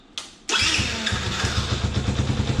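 A Yamaha Grizzly 80 ATV fitted with a Chinese carburetor cranks briefly, then catches and runs at a rough, loud idle close by, its small engine pulsing unevenly.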